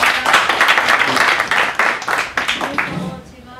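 Crowd applause at a book launch party, a dense burst of clapping that thins out toward the end, with voices mixed in.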